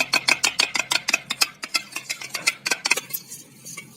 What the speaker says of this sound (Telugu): పెరుగుని ఇలా చిలుకాలి.